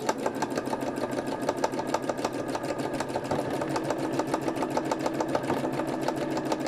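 Sewing machine stitching a fabric flower onto a gardening journal cover, a fast, steady mechanical needle clatter running continuously and close up, with no voices.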